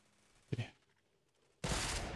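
Two gunshots in the Roblox game Fortblox, a short sharp crack followed after a pause by a louder, sustained blast, with quiet room tone between.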